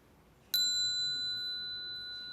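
A single bright bell strike rings out clearly and sustains with a clean metallic tone, slowly fading in a quiet room.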